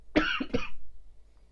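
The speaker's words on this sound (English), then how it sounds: "I just need to cough because we're very professional." Two quick, close coughs in a row, rough and throaty, followed by near silence.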